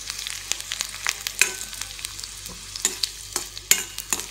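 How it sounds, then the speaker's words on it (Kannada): Two red chillies frying in a little oil, a steady close sizzle broken by frequent sharp spatula scrapes and taps against the pan, with no voices. "ಕೆಂಪು ಮೆಣಸಿನಕಾಯಿ ಹಾಕಿ 2, ಸ್ವಲ್ಪ ಆಯಿಲಲ್ಲಿ ಫ್ರೈ ಮಾಡಿ ಸ್ವಲ್ಪ ಫ್ರೈ ಆಗಬೇಕದು."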